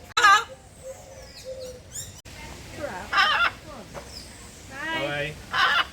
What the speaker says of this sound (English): You may also run into a few friendly and welcoming birds.